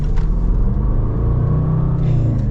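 Range Rover Sport SVR V8 engine accelerating, a loud, deep continuous rumble from inside the car that builds steadily in a drawn-out pull.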